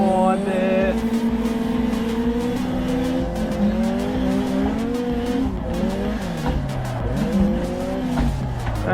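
A car drifts on the Ebisu North Course in Assetto Corsa, its engine howling and revving continuously as tires squeal in long wavering tones, loud and close throughout with no voices.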